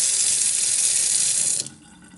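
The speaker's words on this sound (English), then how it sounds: "It's really draining nicely." Water rushes steadily down a kitchen sink drain treated with drain cleaner, a loud close hiss and gurgle that cuts off abruptly near the end, leaving a faint quiet tail.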